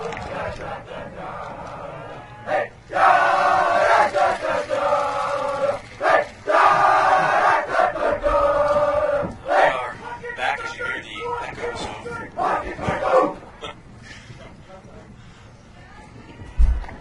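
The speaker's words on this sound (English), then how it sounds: "Interesting cheer." A school sports crowd at a soccer game chants a rhythmic cheer in loud group bursts, the voices rising and falling.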